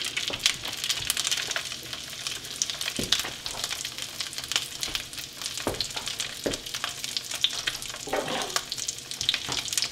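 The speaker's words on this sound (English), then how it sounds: "we're going to fry this in butter on low heat" Arctic char fillet frying in butter over low heat, a steady soft sizzle with occasional stirring and scraping clicks throughout, no talking.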